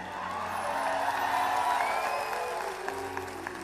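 An audience applauding at a Hindi poetry show, a steady wash of clapping with faint cheers, spread out and continuous throughout.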